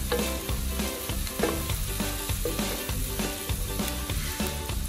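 Beef tongue sizzles with onion in a hot pan, a loud continuous crackle and hiss with faint rhythmic stirring scrapes running throughout.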